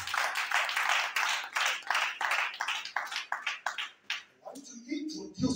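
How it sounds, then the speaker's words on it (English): Congregation clapping in church, rhythmic rounds of hand claps at a steady beat that thin out toward the end, where a voice is heard briefly. "Somebody clap for Jesus."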